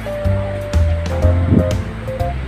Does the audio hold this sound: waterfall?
yes